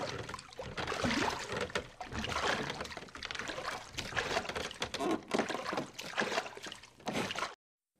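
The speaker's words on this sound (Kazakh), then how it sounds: "бұл қайық" A small boat moves through water, with continuous sloshing, splashing and trickling that swells and eases in uneven surges for several seconds before stopping abruptly into silence.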